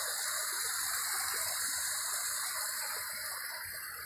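Waterfall at the Xerém dam, a dense continuous roar of falling water, loud and close and steady throughout, with no voices.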